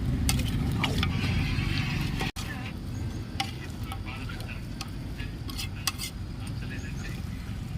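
Chicken with chili powder, salt and tomatoes is stirred in a pot for Andhra-style chicken sherva, a steady scraping and sizzling texture with light utensil clinks, with a voice talking in the background.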